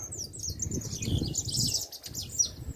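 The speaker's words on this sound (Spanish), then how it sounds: "observen, escuchen, esos son tordos." Cowbirds chirp and sing in a busy outdoor chorus, bright repeated notes overlapping above a low rumble of background noise.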